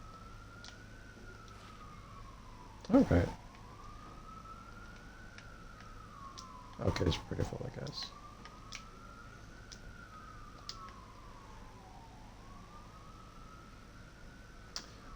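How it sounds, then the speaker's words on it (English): Emergency vehicle sirens wail in the background in slow rising and falling sweeps throughout, moderately distant, with a few brief louder bumps and short spoken remarks over them. "Sorry for the background sirens, guys."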